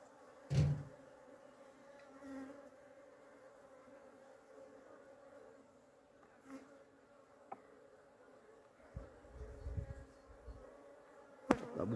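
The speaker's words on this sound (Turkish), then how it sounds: "Arılar da zaten hırçındı, saldırgandı." A quiet, steady hum of agitated honeybees at a hive runs throughout, with a few soft bumps and knocks rising above it now and then.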